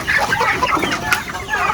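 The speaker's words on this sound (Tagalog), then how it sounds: "So yan yung mga manok" Several breeder chickens cluck and chatter close by on a farm, with a turkey among them, in a busy, overlapping flurry of short calls.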